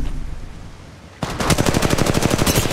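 In the Apex Legends video game, a rapid burst of automatic gunfire starts abruptly after a quieter stretch, with loud, closely spaced shots continuing to the end.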